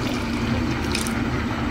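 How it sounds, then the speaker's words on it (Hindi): Half a cup of water goes into a hot pan of fried chicken malai kofta with a steady, close hiss and sizzle. It is a continuous watery rush with no talk over it. "अब इसके अंदर मैं 1/2 कप पानी ऐड कर रही हूँ"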